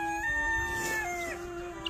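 A rooster crows once on a homestead farm among chickens, turkeys and ducks, a clear drawn-out call with steady harmonic tone, close and fairly loud, fading at the end with no talk over it.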